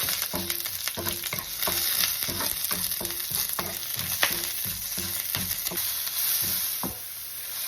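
Curry leaves and urad dal sizzle in hot oil with dried red chillies, a steady crackling fry broken by regular scraping knocks of a spatula stirring the pan, close and fairly loud with no talk.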